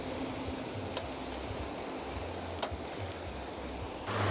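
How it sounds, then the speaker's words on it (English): Surf rolls and crashes continuously onto La Digue beach in the Seychelles, a steady broadband wash with low rumbling swells and a brief stronger surge at the end, with no talk. "sat there watching the waves crash over and over"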